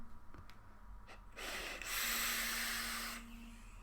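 A long breathy exhale after a hit from a menthol candy-berry e-liquid vape, a soft close rushing whoosh of air lasting about two seconds that follows faint clicks and a brief inhale, with no talk.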